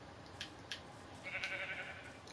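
Sheep bleating in a survival video game, a few short bleats near the start and then a longer wavering bleat, heard fairly faintly over a steady game background with no talk.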